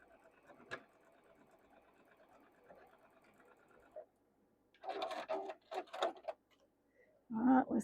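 A sewing machine joins quilt block pieces in a short, soft run, followed by clicks, fabric rustling and handling knocks nearby.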